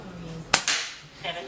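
A BSA Goldstar SE air rifle fires a single sharp, close crack with a brief tail, with faint background room noise before and after.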